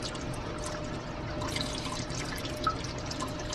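Dry ice fizzes and bubbles in liquid with a continuous soft, close hiss and a few scattered pops, with no one talking over it.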